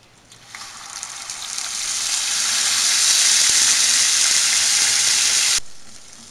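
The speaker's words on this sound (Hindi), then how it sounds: "अब हम प्याज शामिल कर रहे हैं।" Onions hit hot oil for a Pakistani beef kofta curry. A bright, steady sizzling hiss swells quickly, holds strong and close for several seconds, then cuts off abruptly.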